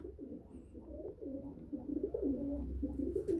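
Pigeons coo steadily in a loft, several birds overlapping in low rolling, throaty calls that swell and fade over a continuous murmur, close and moderately loud with no talk.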